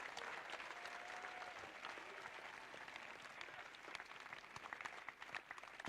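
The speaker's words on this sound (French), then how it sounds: "Acclame pour Jésus-Christ. Clap." Sustained clapping from a congregation at a live worship service of praise in Dabou, Côte d'Ivoire, a dense steady wash of many hands throughout, with no break.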